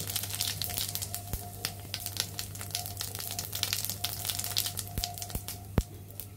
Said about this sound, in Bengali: আমরা মাছ ভাজার তেলের মাঝে গোটা কয়েক জিরে দিয়ে দেব।